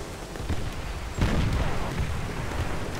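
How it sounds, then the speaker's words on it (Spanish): Rocket salvo explosions from the Call of Duty: World at War video game, a steady rumbling barrage of booms with one sharper blast partway through, loud and continuous with no clear gaps. "¡Descarga de cohetes lista!"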